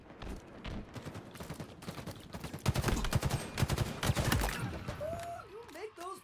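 Gunfire from a Halo video game rattles out in rapid, overlapping bursts that swell louder midway, then break off as a voice begins speaking near the end.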